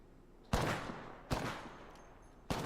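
Apex Legends gunfire, three loud separate shots spaced about a second apart, each a sharp crack trailing off into a short decay, with quiet background between them.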